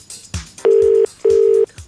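Telephone line tones during a call placed from a radio studio for an on-air interview: two long, loud, steady beeps at close range, separated by a short gap, with no talking.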